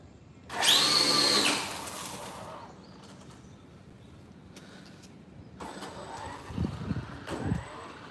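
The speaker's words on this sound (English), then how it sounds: "Now we're going to do launch control with full throttle." A Traxxas Drag Slash RC car with a Trail Rider 570 motor launches at full throttle, a sharp rising electric whine bursting loud for about a second, then fading into quieter mechanical rattles and clatter as it runs off.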